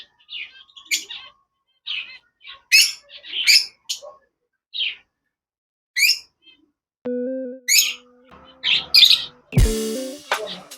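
Caged white finches give short, sharp chirps and squawks in scattered bursts, close and clear against a quiet background, with a brief tonal beep and a clattering rustle near the end.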